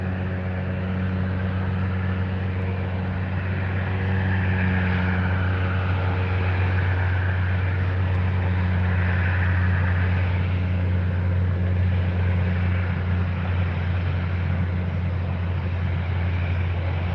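A Douglas DC-3 propeller airliner takes off at Fort Lauderdale with a steady, droning engine roar that holds loud and unbroken the whole time.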